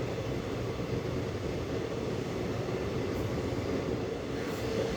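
A Kannur Bengaluru Express passenger train runs with a steady, continuous rumble and rolling clatter, heard from on board at an even level throughout.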